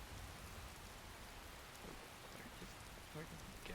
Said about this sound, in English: Of course, it's still raining.